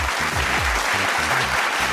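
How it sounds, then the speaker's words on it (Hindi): Loud studio audience applause on a Hindi reality TV show, dense and continuous throughout, with a rhythmic musical beat underneath. "जोरदार तालियां"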